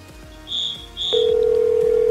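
Telephone tones sound close and clear: two short high beeps, then a steady, continuous tone that holds to the end.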